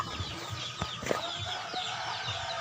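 Chickens cluck softly and intermittently while being fed, with scattered short calls over a faint background hiss, fairly quiet and at modest distance.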